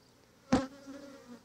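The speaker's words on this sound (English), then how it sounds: "the bulk of the bees are obviously still on the post" A honey bee swarm gathered on a post while being collected into a hat gives a single sharp buzzing burst, near and fairly loud, then a thinner hum that carries on faintly.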